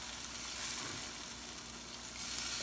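Pork igado simmers in a covered pan with a little added water, a soft, steady bubbling sizzle that stays faint and even throughout, with no voices.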